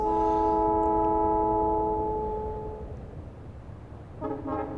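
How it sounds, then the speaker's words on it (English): A train in the Factorio video game passes through a station, a loud sustained horn-like chord that fades out, then a short repeated chime near the end. "didn't really see that train come through"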